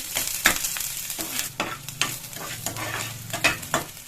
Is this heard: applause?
no